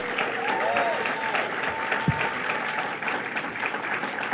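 A crowd at a reproductive rights rally in New Hyde Park applauds Joanne Smith, giving moderate, continuous clapping from a mid distance with some cheering and a few whistles.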